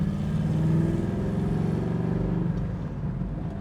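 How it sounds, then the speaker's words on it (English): A 1968 Chevrolet Camaro's engine rumbles at about 1/8 throttle with a deep, throaty exhaust burble, steady and close, easing off slightly near the end. "That exhaust sounds awesome."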